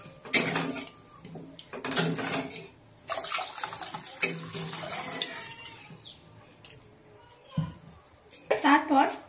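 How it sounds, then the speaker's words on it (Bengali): Water is poured into a pan of cooked spice paste for potol dolma, giving splashing and clattering pan sounds in short bursts near the microphone, with someone talking in between. "এবার আমি এর মধ্যে দিয়ে দেব জল।"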